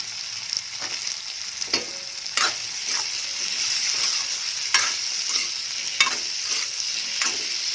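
Small chopped potato pieces fry in a pan with a steady, close sizzle, broken by sharp clinks and scrapes as they are stirred, with no voices.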